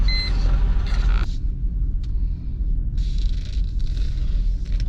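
A 2001 Mercedes-Benz ML430 (W163), just out of limp mode, cruises through a neighborhood with steady low engine and road rumble heard from inside, plus a couple of brief beeps and shifting wind noise.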